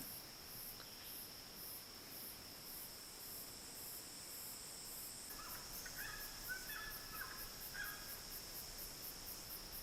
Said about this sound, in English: So many different bird sounds.